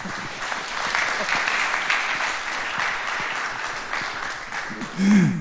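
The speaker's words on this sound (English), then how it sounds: "thank you very much for your talk, and a big applause for Pablo as well." Audience applause after a blockchain meetup talk in Munich, steady clapping throughout from a small crowd, with a voice briefly heard near the end.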